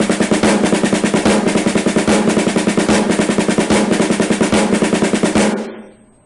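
Snare drum playing repeated seven-stroke rolls with bounced diddles, a loud, dense, fast rhythmic stream of strokes that ends abruptly with a short ring-out.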